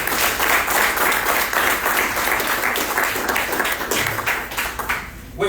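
A church congregation applauds loudly and densely, a thick roar of many hands clapping together that holds steady, then thins out and fades near the end.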